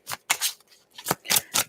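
Tarot cards are shuffled by hand in a quick series of crisp riffling bursts, about six short rustles close to the listener with brief gaps between them.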